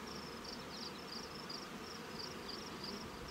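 Honey bees buzzing inside an open nuc hive crowded with bees during a late-season inspection, a steady close drone with a faint high whine running continuously throughout.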